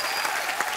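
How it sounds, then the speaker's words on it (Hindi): Loud, dense applause from a studio audience at a comedy talk show taping, a steady wash of clapping lasting under a second with no talk over it. "एक बार जोरदार तालियां"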